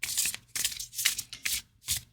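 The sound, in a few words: shuffling a tarot card deck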